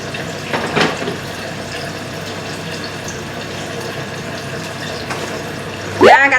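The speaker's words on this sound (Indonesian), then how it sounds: "air rebusan bahan sambal tadi saya mau buang, terus saya mau ambil air baru untuk rebus kangkung" Stale cooking water poured out and fresh water drawn from a tap for boiling water spinach in a home kitchen: steady splashing, running water for several seconds, ending in a brief louder gush.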